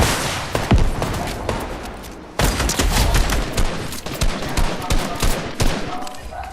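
Rapid bursts of gunfire in the Fortnite video game crackle in dense, overlapping volleys, loud sharp cracks repeating over several seconds with brief gaps between flurries.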